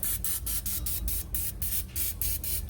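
Pam cooking spray hisses onto pans in short repeated bursts, about a dozen quick sprays in a steady rhythm, close and fairly loud, with no talking.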